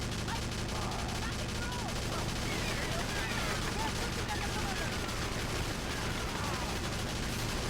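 A machine gun nest fires continuously in Battalion Wars, producing a dense, steady wall of rapid gunfire and battle noise under someone talking throughout.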